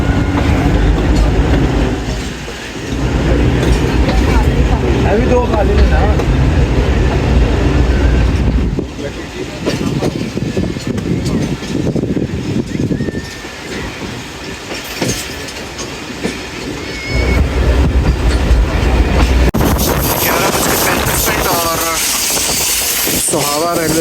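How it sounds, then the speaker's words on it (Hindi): Jaffar Express passenger train pulling out of a station and running, a steady loud rumble and rail clatter heard from on board, with people talking over it. "दोबारा हमारी ट्रेन का डिपार्चर हो रहा है"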